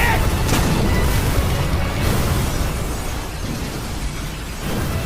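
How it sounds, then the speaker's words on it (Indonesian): Massive meteor explosion from the One Punch Man anime, a loud sustained roaring rumble of blast and debris that holds steady before easing slightly, with no voices. "dampak dari ledakan meteor itu meluas ke seluruh kota"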